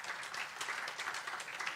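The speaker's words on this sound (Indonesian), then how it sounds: "Boleh tepuk tangan dulu buat Tuhan" A church congregation claps for God during an online Sunday service, producing a faint, continuous patter of applause with no talking.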